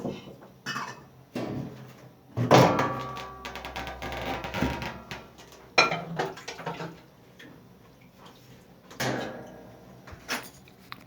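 Metal panels and cover parts of a combi boiler that will not heat are unclipped and lifted off, giving scattered clanks, rattles and scrapes with quiet pauses between them.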